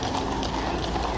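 Household Cavalry Horse Guards horses' hooves clip-clopping in a steady, busy rhythm, heard over crowd murmur and voices at the State Opening of Parliament procession.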